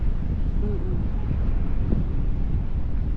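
Wind buffets a boat during parasailing in Boracay, a steady low roar of wind against the microphone with a faint voice underneath.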